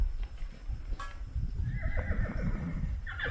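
Horses neigh and whinny amid hoof clip-clop as a group comes through a canyon on a trail, moderately distant, with a rising whinny near the end over low rumbling background.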